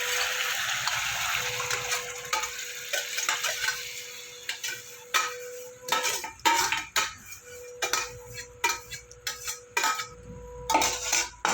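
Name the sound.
adding boiled kolai dal to the pan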